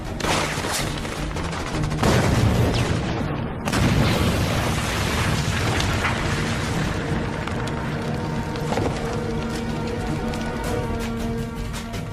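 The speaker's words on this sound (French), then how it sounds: "Grenade!" A grenade goes off in an action film combat scene as one loud, dense blast with rumbling debris, followed by continuous heavy gunfire and battle noise that stays loud throughout, with no clear speech.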